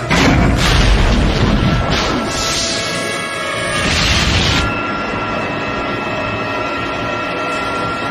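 Cannon fire and multiple explosions in an animated action film, a loud, dense roaring blast that rumbles for several seconds with swelling bursts, then settles into a sustained lower roar.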